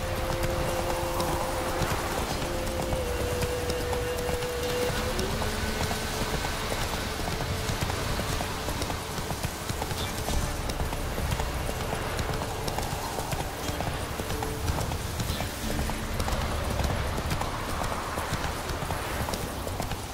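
Horse Roach gallops in The Witcher 3, a steady rapid clip-clop of hooves running continuously under a broad game soundscape, with a brief whinny and faint talk in places.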